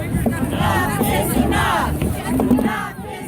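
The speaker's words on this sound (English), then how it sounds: "Just wanted to give you another look at the crowd that's here." Crowd of protesters at a March For Our Lives rally in Des Moines, gathered outdoors in bad weather, a steady mass of overlapping voices and cheering with rising shouts, close and fairly loud throughout.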